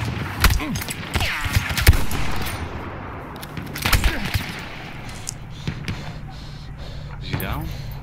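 Heavy weapon fire in Battlefield 1 on PC, several loud booming shots with sharp transients spaced through the stretch, echoing over game ambience while a player talks.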